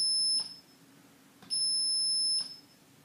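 A continuity tester gives a high electronic beep while a push button is pressed: two steady tones, one short and one longer, separated by a quiet gap with faint clicks at the button presses.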